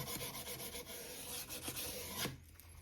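Rusty American Flyer S gauge model train track is rubbed with 220-grit sandpaper, a steady close rasping scrape that runs continuously and then stops abruptly near the end.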